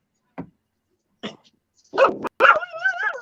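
A young hound dog gives a few short, sharp barks spaced apart, then breaks into a louder, drawn-out, wavering howl, close by with no talk over it.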